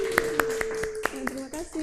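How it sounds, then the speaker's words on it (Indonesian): A small classroom group claps during a microteaching session, a handful of sharp, separate claps in an uneven rhythm, with a voice talking over them. "yuk kasih tepuk tangan buat Mas."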